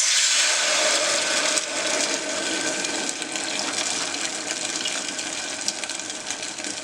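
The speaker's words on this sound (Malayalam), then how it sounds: "നമുക്കിതിലേക്ക് മാവ് ഒഴിച്ചു കൊടുക്കാം." Kalathappam batter poured into hot oil in a pressure cooker over high flame, a loud continuous hiss and sizzle that holds steady throughout with no talking.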